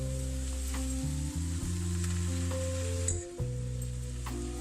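Seviyan (vermicelli) fries in a pan with tomato paste and masala, giving a soft, steady sizzle. A prominent droning hum with shifting tones sits on top of it.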